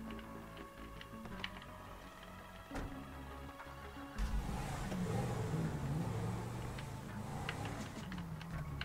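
In the game GTA 5, a car engine hums quietly, then revs up and stays at a louder, rough drone in the second half. Faint ticks and clicks sit over it.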